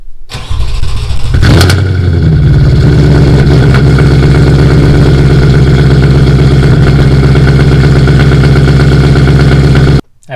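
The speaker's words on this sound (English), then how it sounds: "let's hear a cold start, a true cold start" A car fitted with a VF Engineering supercharger and Jackal Motorsport tune cold-starts close by with a sharp crank and catch, then settles into a loud, steady, rumbling idle that runs unbroken for several seconds before cutting off.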